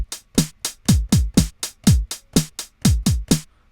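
Kick drum sample triggered from a sampler pad, about thirteen punchy, deep hits in a steady, slightly uneven rhythm, each with a sharp click and booming low decay, loud and close with no voices.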